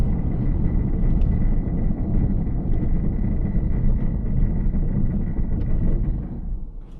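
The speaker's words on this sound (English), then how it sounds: "I'm gonna step on the brakes hard." A car brakes hard from 35 mph on pure ice, giving a loud, steady low rumble of tires and road noise that holds for several seconds and then eases off slightly at the end.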